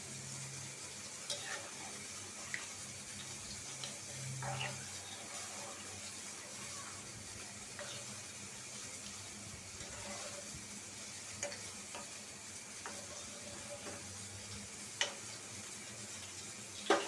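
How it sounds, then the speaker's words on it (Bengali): Rohu fish fries in a pan on a stove with a soft, steady sizzle, broken by occasional clicks and scraping taps of a utensil, in a quiet kitchen. "মাছটা চুলায় ভাজা হইতেছে আমার।"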